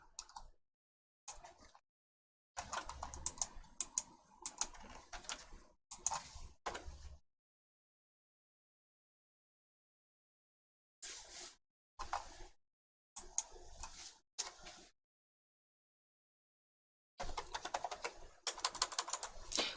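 Fingers type on a computer keyboard in close, crisp bursts of rapid clicks separated by several stretches of complete silence, with the longest flurry coming at the end and no speech.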